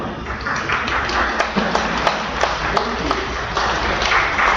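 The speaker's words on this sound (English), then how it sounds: "I will tell you now, you can clap." A church congregation at an English-language service claps together, a moderately loud, scattered patter of hands with a few sharper individual claps standing out, continuing throughout without speech.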